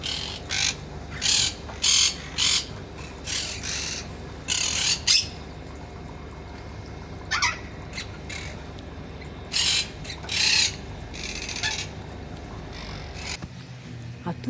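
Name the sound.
parrots squawking in a zoo aviary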